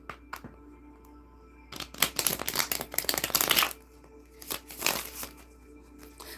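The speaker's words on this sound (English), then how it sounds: "Let me get these 2 more butterfly shuffles." Butterfly shuffling of a deck of playing cards: a couple of quick riffles, then a longer burst of crisp, close flicking and riffling, a brief pause, and another short riffle, with no talking.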